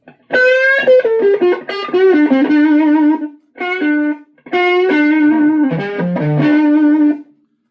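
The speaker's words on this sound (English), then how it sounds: "do have a boost set up as a fave on the Iridium, so if I push the fave button" Electric guitar played through a Strymon Iridium amp modeler with a boost engaged rings out in bright, driven single-note phrases and sustained bends, loud and clean-edged, in several bursts separated by short pauses.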